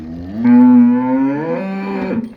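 A Cholistani-Friesian cross cow gives one long, loud moo, steady and close, lasting about two seconds with no other sound around it.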